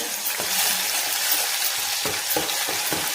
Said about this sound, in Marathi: हे थोडंसं आलं लसूण ठेचलेलं मी ठेवलं होतं ते टाकून घेऊ आपण आणि छान तेलामध्ये परतून घ्यायचं